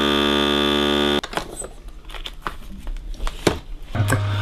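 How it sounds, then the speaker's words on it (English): A vacuum sealer packing pork belly for sous vide runs as a loud, steady motor hum, then cuts off abruptly and is followed by crinkling plastic and handling noises up close. "I'm just going to vacuum pack this and then cook it sous vide in my sous vide machine."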